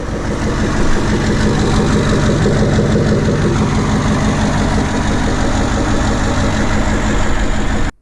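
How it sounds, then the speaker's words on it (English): An old Cummins diesel engine in a 1944 GMC DUKW idles close by, a steady loud rumbling chug with rhythmic knocking, continuous and unchanging. "The old Cummins engine purring away."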